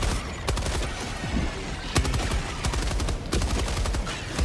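Rapid bursts of gunfire from the video game Helldivers 2, with loud sharp shots repeating at irregular intervals over a dense, continuous roar of battle noise.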